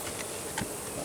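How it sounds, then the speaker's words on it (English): A soft, steady buzzing of honeybees hums throughout, faint and continuous with no voices. "the bees started getting a little testy down there"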